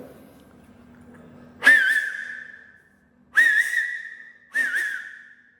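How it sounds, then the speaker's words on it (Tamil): Three loud, sharp finger whistles, each made with a single finger, come one after another: a long first blast, then two shorter ones close together, heard alone after a faint murmur. "இப்போ ஒரே விரலில் விசில் வைக்கிறேன் பாருங்கள்"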